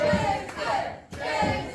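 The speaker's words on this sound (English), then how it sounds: "the crowd is just really into this, really pulling for Raddatz" Wrestling crowd at an Elite Pro Throwdown Thursday independent show, roaring and shouting in support of wrestler Raddatz; a loud, sustained mass of cheering voices that dips briefly, then surges back.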